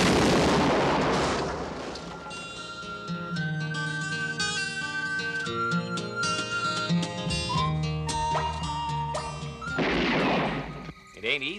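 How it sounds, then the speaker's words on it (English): Booming explosions from a 1973 Western movie trailer burst out loudly at the start and again near the end, with a music score and dialogue in between. "I reckon it's a bomb."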